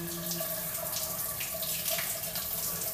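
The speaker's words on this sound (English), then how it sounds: "She's in a shower right now." Shower water runs steadily indoors, a continuous close hiss of spray with no pauses and no voices.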